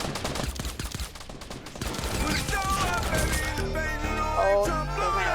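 Rapid bursts of gunfire crackle in a Fortnite battle royale match, quick repeated shots layered over game sounds and mechanical clatter, with a voice talking over parts of it.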